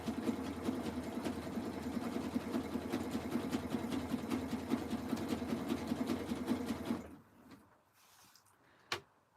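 A sewing machine runs continuously and close while stitching fabric strips for a jelly roll rug, then stops abruptly, followed by quiet handling and a single sharp click.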